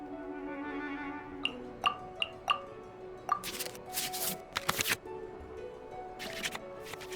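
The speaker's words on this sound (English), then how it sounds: "select any number of cards in our hand to shuffle back into the draw pile" Card shuffling effect in the Genshin Impact trading card game: a series of crisp digital card flicks and swishes in quick bursts, tidy and close, over a soft sustained musical tone.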